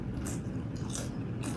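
Lay's BLT Sandwich flavored potato chips crunch in three sharp bites and chews at close range, with a quieter grinding between them.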